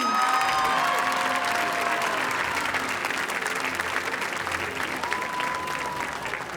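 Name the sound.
audience applauding the debate champions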